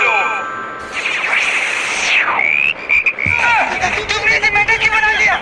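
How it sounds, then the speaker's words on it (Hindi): Loud cartoon frog croaks in a well burst out amid bright dings, rising and falling sound-effect sweeps and rapid chirpy bursts, with some background voice babble. "तुमने इसे मेंढक क्यों बना दिया?"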